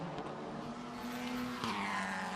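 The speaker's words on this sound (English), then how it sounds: "Seeing a little right front lockup that time into the carousel" Race car at Mid-Ohio in a 2024 Kumho FIA TCR World Tour race, engine droning loudly as the right front tire locks under braking into a corner, with a sharp shift in pitch partway through.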